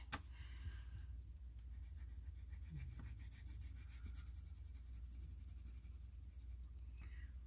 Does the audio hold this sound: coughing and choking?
no